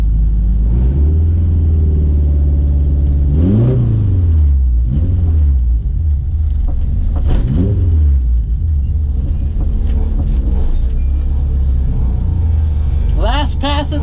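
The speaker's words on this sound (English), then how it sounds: "This is the grudge race between me and Christian." Honda CRX drag cars, a nitrous GSR and an H22, rumbling loudly at the strip with engines revving in rising and falling sweeps. A voice talks over the constant engine noise.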